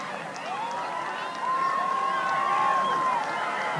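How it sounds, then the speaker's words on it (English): A track-meet crowd roars at the finish of a 4x800 relay final, producing a broad, steady wash of cheering that swells slightly in the second half, while a sustained whistle-like tone rises above it and voices mingle within. "you can hear the crowd in an uproar"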